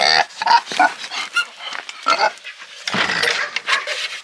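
A pig grunts and snorts repeatedly up close, in rough, uneven bursts with brief pauses between them.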